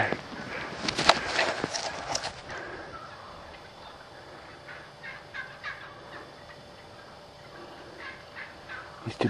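Wild turkey toms gobble faintly at a distance in a quiet outdoor setting, with a burst of sharp clicking early on and scattered soft rustles afterward.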